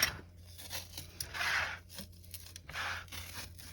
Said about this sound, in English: Now let's add the sport tape.